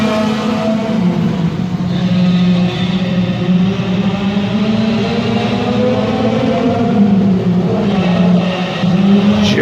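Two race cars run wheel to wheel around a track, their engines roaring loud and sustained with shifting pitch as they race side by side.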